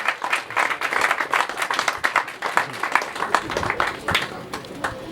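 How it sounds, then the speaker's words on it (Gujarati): A roomful of guests at a bank retirees' association programme claps warmly in sustained, dense applause that runs steadily for several seconds without talk. "ખૂબ તાળીઓ પાડીથી એમને વધાવી"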